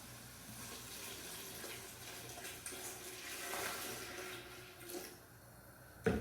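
Water is poured into a pan of cooking onions, a quiet, steady running and splashing over low kitchen hum, ending with a brief clunk.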